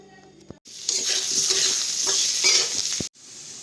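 Fish and potato curry sizzling and frying in a pan while being stirred, a steady loud hiss with scraping stirs, beginning and ending abruptly with no talk.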